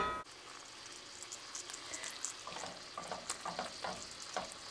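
Bacon ends sizzle and crackle in a hot pan while being stirred and broken apart, steady close frying with scraping accents and no talking.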